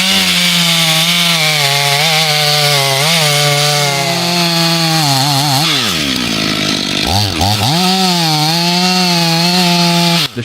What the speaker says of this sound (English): The sharp chainsaw growls in the hands of a skilled worker.